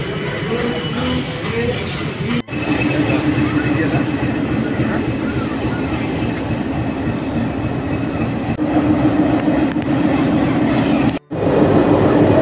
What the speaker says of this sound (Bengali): এসে গেছি একদম টয় ট্রেনের সামনে